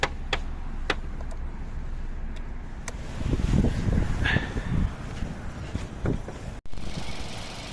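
A 2008 Mazda 6 2.0 petrol/LPG engine with automatic transmission runs steadily at idle, a low continuous rumble with a few faint clicks and a brief rise in mechanical noise midway.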